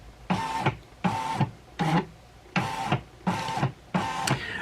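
A Baby Lock Ellisimo embroidery machine scans in six evenly spaced mechanical bursts, each a whirring sweep of roughly half a second separated by short pauses, loud and close with no talk.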